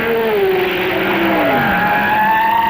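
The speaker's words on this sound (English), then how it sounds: "Lucas in the Ford heads for his accident." A 1967 Ford sports racing car roars loudly at Brands Hatch during the BOAC 500 race, its engine note sliding down in pitch as it heads into an accident, close and steady.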